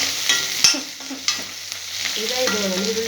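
Onion, capsicum, beans and carrot fry in oil in a pan with a soft crackling sizzle, broken by a few sharp clinks and scrapes of stirring, close and without talking.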